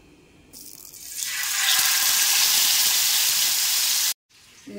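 Fish seasoned only with chili powder and salt frying in a pan: a loud, steady sizzle swells in after about a second, holds, then cuts off abruptly, leaving a quieter hiss.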